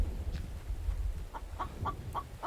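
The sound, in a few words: chicken clucking in the video game The Infected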